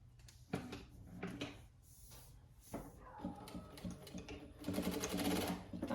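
A domestic sewing machine stitches ribbing onto a winter pajama in bursts of rapid mechanical whirring, separated by pauses with small handling clicks, loudest near the end.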